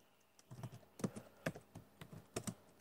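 Fingers tap out a command on a computer keyboard in a Kali Linux terminal, a quiet, uneven patter of close key presses with no talking.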